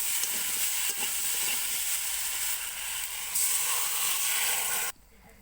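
Water poured into a hot pan of Bengali fish curry with potato, ridge gourd, bottle gourd stems and eggplant gives a loud, steady sizzling hiss that roars on for about five seconds, then cuts off abruptly.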